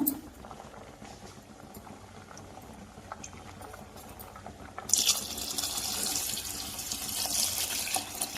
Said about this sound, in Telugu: ఇప్పుడు దీనిలో మనము చింతపండు రసం పోద్దాము